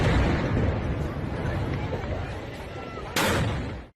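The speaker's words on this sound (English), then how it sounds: "They also have a 21-gun salute, which is done by small cannons." Small cannons fire a 21-gun salute at the Sultan of Brunei's birthday celebration; a sharp, loud blast lands near the end, over a dense, rumbling crowd din that fills the whole stretch.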